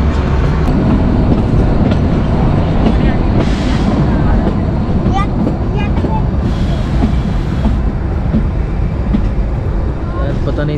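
Kalka–Shimla toy train on the mountain line, a loud continuous rumble and clatter of the carriages heard from on board, with brief squeals and rattles and faint voices in the background.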